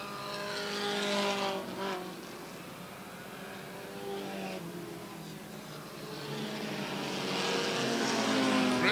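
Race cars circle the Airborne Speedway oval in Plattsburgh, New York, a pack of four running close together, engines roaring steadily and swelling as they pass, loud and continuous with no talk over them.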